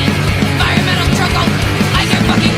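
Loud, dense hardcore punk recording from a band's first demo, by a band formed in Santa Cruz in 2019, with distorted guitars, pounding drums and screamed vocals blasting continuously without a pause.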